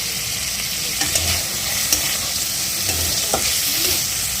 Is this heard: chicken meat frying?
yes